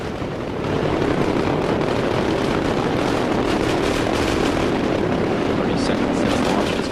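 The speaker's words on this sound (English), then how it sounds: "Seconds since launch, Discovery's already traveling 400 miles per hour." Space Shuttle Discovery on mission STS-114 climbs after launch with a steady, broad rocket roar that fills the whole range, loud and continuous with no voices over it.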